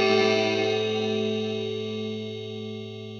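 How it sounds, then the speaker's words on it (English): A Red Panda Bitmap 2 bit crusher distortion pedal producing a sustained, buzzy, harmonically dense processed tone that slowly fades over a few seconds, with no voices. "The Bitmap 2 from Red Panda is a very lovingly designed bit crusher distortion."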